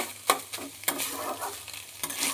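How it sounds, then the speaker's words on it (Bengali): Squeezed banana stem stir-fried in a pan over a raised gas flame, giving a steady soft sizzle broken by three or four sharp scrapes of the spatula against the pan. "এইবার ভালো করে এর সাথে ভাজা ভাজা করব।"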